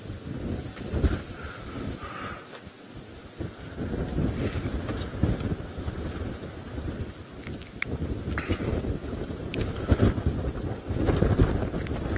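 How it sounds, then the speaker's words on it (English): Windy weather on an early-morning safari game drive, a steady rumbling gust of wind buffeting the microphone throughout, with faint scattered background sounds and no talking. "It could just be this windy weather that's getting them worked up."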